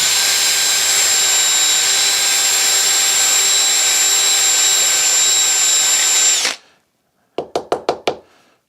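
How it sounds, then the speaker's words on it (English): A power drill bores epoxy out of the bottom of a golf club head with a loud, steady high whine for about six seconds, then stops and gives a few short bursts. "I've been drilling out the bottom"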